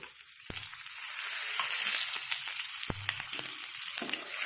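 Fenugreek and sesame seeds fry in hot oil in a pan for a chilli chutney tempering, with a steady close sizzle and a few soft stirring knocks against the pan.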